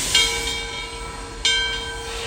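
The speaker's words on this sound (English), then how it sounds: "We're going to begin turning steam engine number 630 first." Southern Railway steam locomotive 630, built in 1904 by the American Locomotive Company in Richmond, Virginia, being turned on a turntable: a steady loud hiss with a humming mechanical tone, swelling sharply twice.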